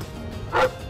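A Newfoundland puppy gives a single short bark, brief and moderately close against a faint background.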